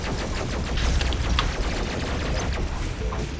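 Rapid bursts of gunfire crackle over a low rumble, dense and continuous for a few seconds, in a firefight in the video game Doom Eternal.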